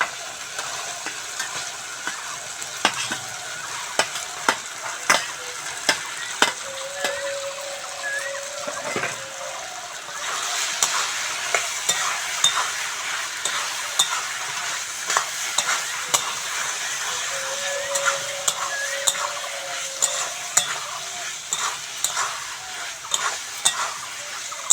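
Fried potato and taro pieces are stirred into fish masala sizzling in oil, a steady frying hiss punctuated by repeated scraping clicks of a spoon against the pan.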